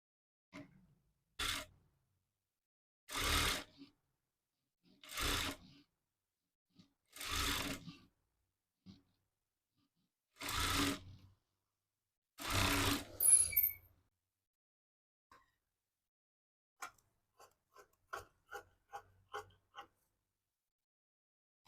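A sewing machine stitches the lining of a size 34 boat neck blouse in several short, separate bursts of whirring with silent pauses between, then a few faint light ticks at the end, without talk.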